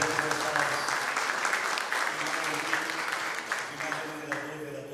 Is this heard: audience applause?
yes